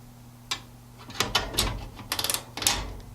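Harbor Freight offset ratcheting wrenches with reversing heads, a close sequence of sharp metallic clicks and quick ratcheting bursts, some in rapid runs, with no talk.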